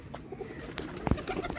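Sialkoti high-flying rooftop pigeons on a house roof coo in a few soft, low bursts. The calls are close and quiet, with light rustling and no talk.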